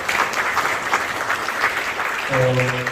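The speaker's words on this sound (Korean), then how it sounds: "올 한 해 열심히 봉사하는 박수를 한번 격려해 주시기 바랍니다" A church congregation at a New Year Sunday service applauds volunteer group members, a dense wash of clapping filling the room, with a sustained tone entering near the end.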